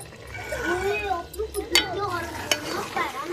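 Okra fried in ghee with meat is stirred in a pot, giving a low sizzle with scraping and a couple of sharp clinks, all under a person talking.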